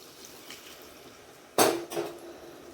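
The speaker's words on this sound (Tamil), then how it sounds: "கொஞ்சம் வெந்நீர் ஊற்றிடலாம்." Hot water poured into a cooking pan of drumstick (moringa) pickle, a sudden loud hissing splash followed by a second shorter pour against quiet kitchen background.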